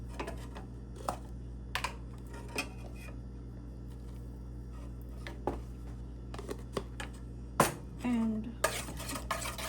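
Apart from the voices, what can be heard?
mixing cake batter in a bowl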